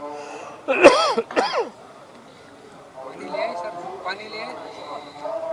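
Two sharp, forceful coughs burst out early, followed by quieter speech from a man.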